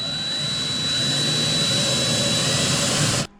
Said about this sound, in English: Drilling fiberglass, you go in reverse to start.